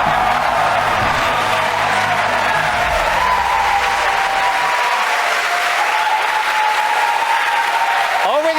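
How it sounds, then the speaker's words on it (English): A crowd cheers and applauds at a SpaceX launch near midnight, loud and continuous throughout, with a dense wash of clapping and whoops that barely lets up. "Over the cheering in the background, it's going on midnight"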